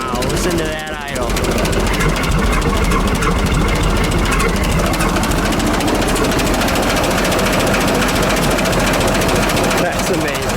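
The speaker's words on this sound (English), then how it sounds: "Wow, listen to that idle." A 1907 Renault Type AI Vanderbilt Racer engine idles loudly and close, a dense, steady rough rumble with knocking pulses that runs throughout, briefly disturbed near the start.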